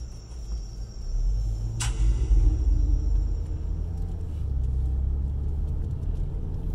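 Cars passing on a winding night road, a steady low rumble of engine and tyre noise throughout, with a brief sharp click near the start and faint insects in the background.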